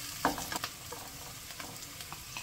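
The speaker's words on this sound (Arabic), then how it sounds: "راح نبلش نقلي الصلصة، نحط زيت زيتون" Onion sizzles in hot olive oil for a pizza sauce, a soft steady frying hiss with a few sharp clicks of stirring near the start, close and unaccompanied by speech.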